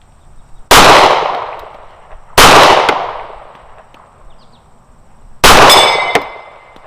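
Three loud, sharp pistol shots from an STI Staccato XC ring off 6-inch steel plates on a portable Texas Star at an outdoor range, each a bright metallic clang with a long decaying ring, spaced roughly two seconds apart.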